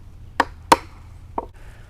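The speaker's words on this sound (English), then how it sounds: "Chop it down like that." A tool chopping wood to carve a round tenon on a stool spindle: three sharp knocks, the second the loudest, set apart by uneven pauses against a low background hum.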